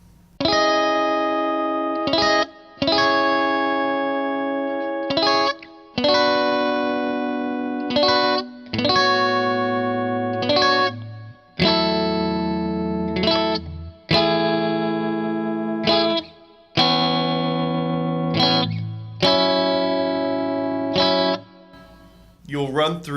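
Electric guitar with effects playing a chord progression slowly, each strummed chord ringing out for about two seconds before the next, steady and loud with a chorused, slightly distorted tone and no talking.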